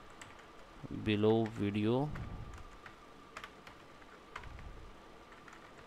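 Typing on a computer keyboard in a quiet room, faint scattered key taps following a short spoken phrase, sparse and close.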